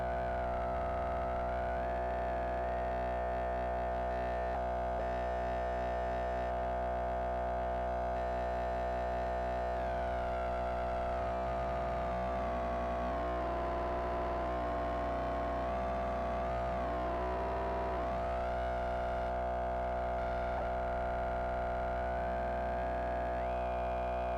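A sustained synthesizer tone, a sine wave made to growl through Eurorack alongside a Roland JV-1080, with a gritty, distorted buzz, its pitch bending and wobbling in slow sweeps for about twenty seconds, with no voices.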